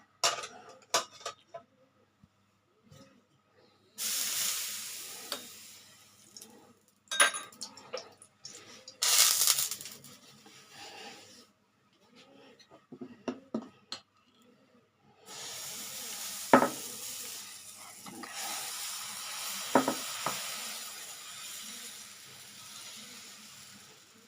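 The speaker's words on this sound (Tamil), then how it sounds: "இப்போ நம்ம தோசை ஊற்ற ஆரம்பிச்சிடலாம்" Moong dal dosa batter meets a hot pan, giving a loud hissing sizzle that bursts up in several separate spells and then settles into a steady frying crackle. Nobody speaks.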